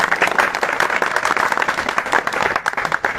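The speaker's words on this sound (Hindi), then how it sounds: "जोरदार आप लोग ताली बजाइए।" An audience at a public gathering claps together: a dense, continuous wash of many hands, loud and sustained throughout, with no clear individual voices.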